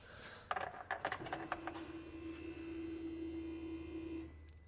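An older UTV engine cranks with a few rough, uneven bursts, then catches and settles into a steady, close idle hum that runs until near the end.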